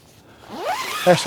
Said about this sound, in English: a full 360 mosquito net that you can zip up